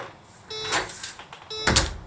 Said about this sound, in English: So now I'll open the door as if I'm leaving.